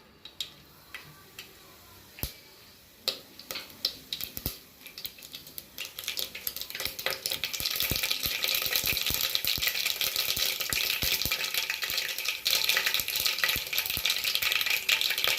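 Mustard seeds dropped into hot oil start with scattered ticks and pops, then build into a dense, steady crackling sizzle up close, with no talk.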